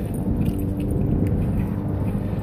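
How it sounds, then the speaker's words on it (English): Steady drone of a lawn mower cutting grass close by while people walk past, a continuous low-pitched engine rumble holding level throughout with no speech. "somebody's mowing their grass"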